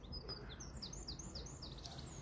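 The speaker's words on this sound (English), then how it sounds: "And did you hear the birds sing?" Faint, high chirps and tweets from birds repeat quickly over a soft background hum, a lively bit of birdsong heard from some distance in snowy Interlaken, Switzerland.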